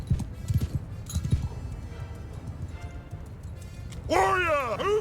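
Galloping horse hooves patter in Mount & Blade II Bannerlord, a quick rhythmic clatter up close, then a burst of louder battle sound with a voice over it near the end.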